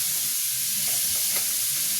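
Food frying in a pan in a home kitchen, a dense, steady hiss of sizzling oil throughout with a faint stir or two partway through.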